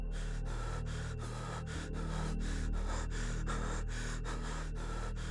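Eerie, rhythmic breathing sound effect for a horror story: a dozen or so raspy, gasping breaths in steady succession, close and heavy over a low droning hum.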